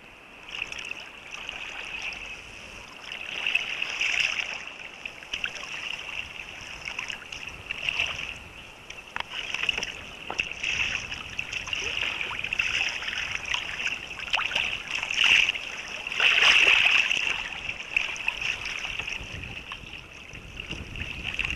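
Kayak paddling on the water in warm, breezy conditions: soft, repeated splashes and trickling water under steady wind noise, with a bright, constant high hiss running throughout.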